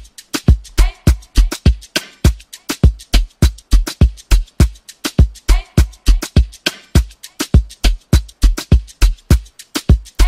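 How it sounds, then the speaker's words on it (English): Looping 102 BPM Afrobeats drum pattern with punchy kicks, snappy snares and percussion hits in a steady, syncopated groove, loud and continuous with no voices. "it included the infinity full loop and it sounds like this."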